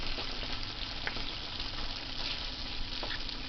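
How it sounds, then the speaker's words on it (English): Potatoes fry in a pan with a continuous, even sizzle and crackle heard up close, with faint occasional stirring clicks and no talking. "Potatoes take a long time, especially frying potatoes, you know."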